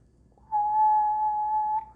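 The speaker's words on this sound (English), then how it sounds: "so I'm gonna hum Happy Birthday, or whistle Happy Birthday" Someone whistles a clear, pure note, holding it steady for just over a second in a quiet room, from the opening of Happy Birthday.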